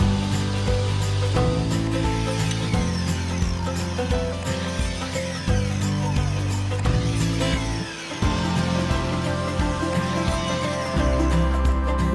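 A table saw cuts walnut and purpleheart segments for a bowl's base and feature rings: a steady, loud whirring drone with repeated cutting passes and a brief dip partway through.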